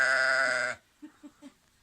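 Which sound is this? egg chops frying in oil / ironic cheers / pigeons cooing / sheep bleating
sheep bleating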